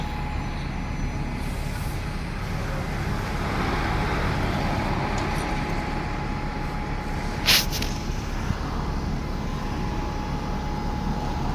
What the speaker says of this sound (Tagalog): Marami na sasakyan.